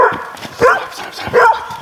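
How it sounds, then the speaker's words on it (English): A dog barks twice in sharp, close yips about a second apart, with faint background noise between. "Stop barking."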